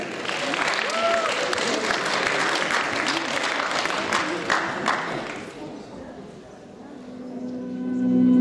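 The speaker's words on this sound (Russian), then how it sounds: "Аплодисменты." An audience at a fan festival costume parade applauds loudly for several seconds, a dense clatter of clapping that fades out, followed by quieter background noise.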